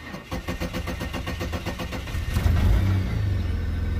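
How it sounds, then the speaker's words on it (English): An L67 burnout car's engine cranks in a rapid rhythmic churn, then catches and settles into a loud, rough running idle on two-year-old stale fuel, heard up close with no talk. "So that went in the car, and the car now starts."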